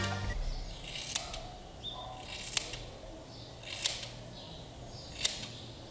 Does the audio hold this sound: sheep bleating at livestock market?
no